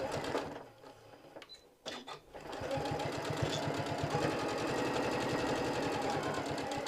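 A sewing machine stitching fabric for handmade hostess gifts: a brief pause, then a steady, fast mechanical chatter of the needle running continuously and close up, with no talking.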